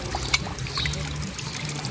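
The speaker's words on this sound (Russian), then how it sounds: "Вау, вот это кран." An unusual water tap in the Pyrenees village of Salardú, Spain, turned on so water trickles and pours in a steady thin stream, close by, with faint background murmur.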